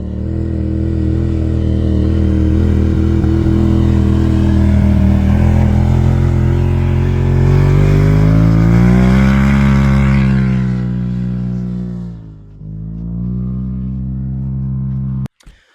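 A King of the Hammers off-road race car engine, run by the H&H Offroad Racing Team, roars loudly and continuously at high revs, climbs, dips sharply near the end, surges again and then cuts off abruptly.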